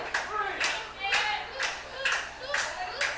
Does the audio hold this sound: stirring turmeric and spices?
no